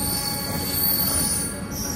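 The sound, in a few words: double-decker train pulling out of Vijayawada station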